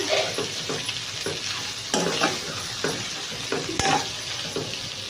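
Paratha filling of paneer, potato and egg is stirred and fried in a pan, with a continuous close sizzle and repeated rhythmic scrapes of the spatula.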